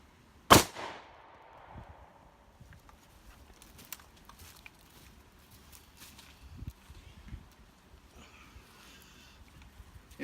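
A single sharp pistol shot cracks out nearby, firing a 65-grain Lehigh Defense Extreme Defender bullet at over 800 feet per second at body armor, followed by a short decay and faint rustling and footsteps.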